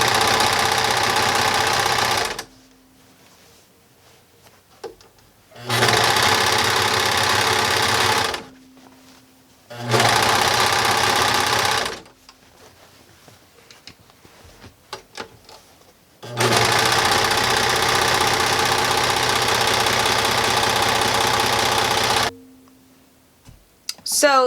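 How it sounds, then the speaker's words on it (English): A sewing machine stitches fitted skirt fabric in four loud bursts of rapid, steady needle chatter. Quiet handling noises fill the gaps between bursts. "just sew that side down as well"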